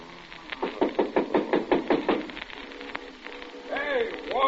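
A hand raps on a door about nine times in a steady, moderately loud series in an old radio drama, then short higher-pitched electronic tones sound as a voice speaks briefly.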